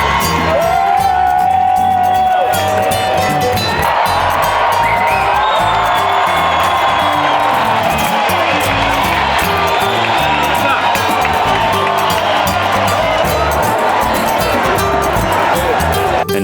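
Festive crowd at the Feria de Abril in Seville, a dense outdoor roar of cheering, whoops and chatter with occasional high shouts, loud and continuous throughout.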